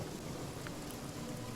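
A rain spell in the video game Divinity Original Sin, producing a short, faint, steady hiss of falling rain.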